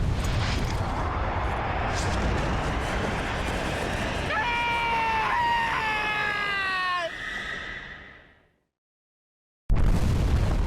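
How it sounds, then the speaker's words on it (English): A huge, roaring atomic missile explosion tears through an oil field in Just Cause 2, a long loud blast that swells with ringing tones, then fades to silence before the game sound cuts back in. "I just redirected an atomic missile into the oil field."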